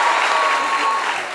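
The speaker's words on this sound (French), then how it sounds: "Est-ce qu'on peut l'applaudir très fort?" Studio audience applauding loudly and steadily during a French midday television show, a continuous wash of clapping with faint voices underneath.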